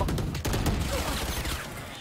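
Dense, overlapping volleys of gunfire in a shooter video game crackle almost without pause, loud and close, with a faint voice underneath.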